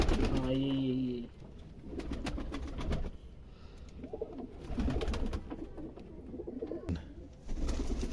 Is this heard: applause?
no